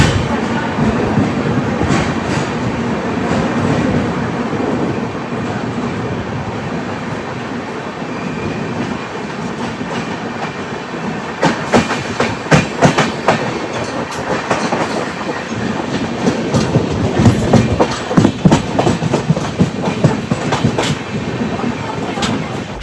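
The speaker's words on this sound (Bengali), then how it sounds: "ট্রেন আমাদের এসে পৌঁছালো বর্ধমান জাংশনের 1 নম্বর প্ল্যাটফর্মে।" Kolkata Jammu Tawi Express at platform 1 of Bardhaman Junction, with a steady heavy rumble of the carriages, rhythmic clickety-clack of the wheels and occasional squeals and bangs that grow busier toward the end, with no voices.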